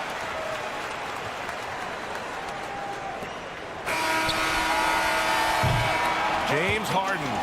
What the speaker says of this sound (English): Fans, please give a big round of applause for your Clippers Youth Dance Team.